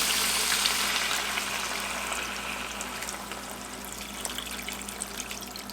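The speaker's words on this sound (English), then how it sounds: "I'm going to go ahead and add in my chicken broth." Chicken broth poured from a container into a crockpot, making a steady liquid splash and trickle that starts fuller and gradually thins out, heard close and alone.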